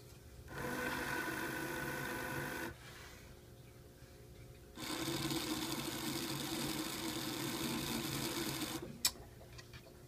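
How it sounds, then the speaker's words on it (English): An old, unrebuilt Walthers Birney model trolley mechanism runs in two bursts, a loud whirring buzz from noisy gearing that starts, stops briefly, then resumes before ending with a sharp click. "you can tell it's a little slower, a lot noisier, you can really hear the gearing"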